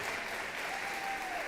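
Audience at a teacher-appreciation event applauding sponsors, a steady wash of dense clapping throughout at moderate level, with a faint voice briefly audible underneath.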